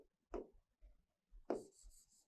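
Writing on a board during a Class 12 physics lecture on electrostatic potential and capacitance: two short scratchy strokes, the second trailing into a thin high squeak, close and fairly quiet with pauses between.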